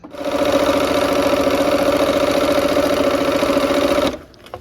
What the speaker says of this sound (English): I'm sewing that those block borders on now